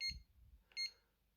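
Ringtone from a 1998 Alcatel One Touch Easy HE1 mobile phone: two short, bright electronic beep bursts about half a second apart, fairly faint, with no talking.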